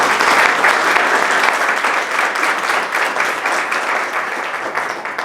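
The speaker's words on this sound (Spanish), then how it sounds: "la doctora Silvia Amigo, para quien pido un fuerte aplauso" Strong, sustained applause from a lecture audience welcoming a psychoanalyst speaker in Mexico City, a loud, dense patter of many hands clapping at once with no talking over it.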